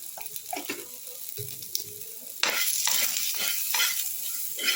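Potato pieces with salt and turmeric fry in a pan for a traditional Bengali pui shaak chochchori, first with light stirring clicks, then a louder, steady sizzle that swells with spatula scrapes.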